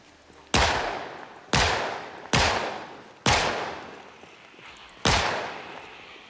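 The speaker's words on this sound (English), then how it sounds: "So we'll see how many get drawn over this direction with this gunfire." Five single gunshots from the video game Project Zomboid ring out one at a time at irregular intervals, each a sharp crack with a fading tail.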